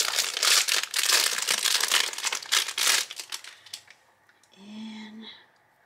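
A Studio Calico scrapbooking kit package being opened, with loud close crinkling and tearing of plastic packaging for about four seconds, then a brief soft rustle and a faint murmur as it settles.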